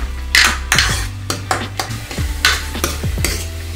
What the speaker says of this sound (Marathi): एक ते 2 मिनिटं आपण व्यवस्थित परतून घेऊया।